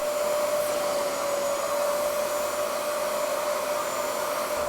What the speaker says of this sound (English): everything that was broken down by the drill brush and the chemical just getting sucked up into the extractor